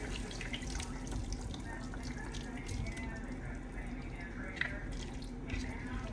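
Pineapple pieces and their juice are poured into a cooking pot, a continuous splashing and trickling of liquid with a few drips, fairly close.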